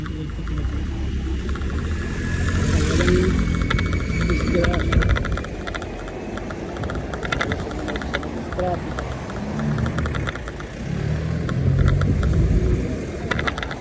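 Road traffic passing on a busy street in Rome, with engines rumbling and vehicles going by nearby in a continuous, fluctuating flow while people talk over it.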